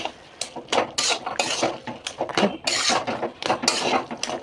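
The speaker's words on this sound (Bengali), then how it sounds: "বাটার দিয়েছে, এবার একটু ভালো করে নেড়ে নেব" A spoon scrapes and clatters against a pan as cabbage curry with butter is stirred, giving repeated rhythmic metallic knocks and scrapes up close.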